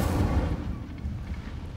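An Incendio fire spell cast in Hogwarts Legacy: a loud, close burst of roaring flame that opens strongly, then thins into a crackling, rumbling tail.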